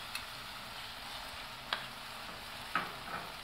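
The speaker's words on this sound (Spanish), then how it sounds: "El siguiente paso va a ser agregar los camarones" Shrimp frying with garlic and red onion in a pan, a steady broad sizzle throughout with a few sharp clicks of a utensil stirring against the pan.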